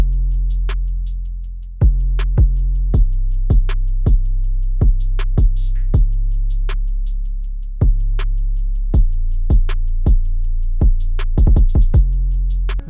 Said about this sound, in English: It's literally just 4 things right now: the hi-hats, the snares, and the kick and 808